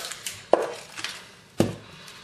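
A knife slices the end off an onion on a cutting board, giving two sharp close knocks about a second apart with a few lighter taps between them and no talking.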